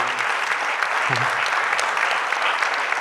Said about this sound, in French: Et j'aimerais qu'on applaudisse très fortement Anne-Sara Zaidi, Amandine Grasso, Véronique